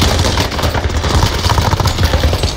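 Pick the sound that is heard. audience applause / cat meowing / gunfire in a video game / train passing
gunfire in a video game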